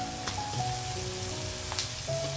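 Capsicum pieces sizzle steadily in a hot pan for an egg and capsicum fry, a close, even hiss with a couple of faint stirring scrapes and no talk.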